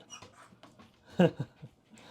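A dog near a dog door pants and whimpers close by, with soft rapid breaths and a louder yelping whine in the middle, then quieter snuffles.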